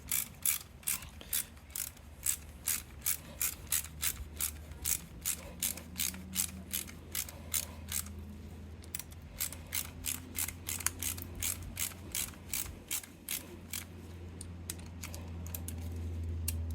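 Ratchet snugging up brake caliper bolts on a Harley touring motorcycle, fast rhythmic clicking in repeated bursts close by, steady and crisp over a faint low hum, with no talking.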